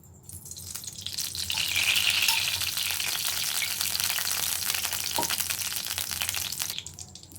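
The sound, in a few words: oil poured into a hot kadai, frying and sizzling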